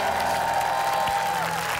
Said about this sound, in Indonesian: tepuk tangan dulu dong buat kontestan kita